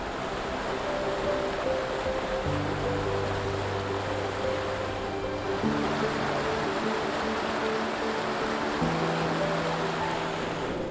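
Rushing waterfall heard as a broad, steady roar of falling water, loud and continuous, with a faint sustained tonal drone layered beneath it.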